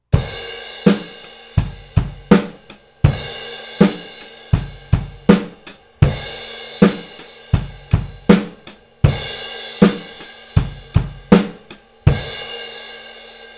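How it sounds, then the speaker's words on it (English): Drum kit groove with a crash cymbal left to ring a full beat before the snare comes back in on beat two, repeating in steady, loud phrases of sharp hits and washing cymbal decay, played alone. "you can just let the crash ring out for a full beat and then you come back in on beat"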